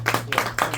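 A handful of students in a calculus classroom give a classmate a short round of applause, a few sparse claps in quick bursts close by.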